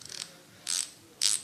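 A rear Pro2 bicycle hub seal is gently pressed in until it seats, producing three short, crisp bursts of clicking close by against a quiet background.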